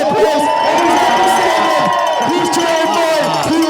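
Spectators at the Harris Hill ski jump cheer and whoop outdoors, a steady wash of crowd voices with a few louder shouts, heard from amid the crowd.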